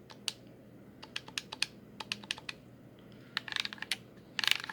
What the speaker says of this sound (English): D-pad is equal parts spongy and clicky